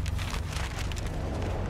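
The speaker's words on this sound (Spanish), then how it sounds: "Pero lluvia esta vez" Steady rain pouring in the video game How to Survive, a dense continuous patter with low rumbling beneath, fairly quiet and without voices.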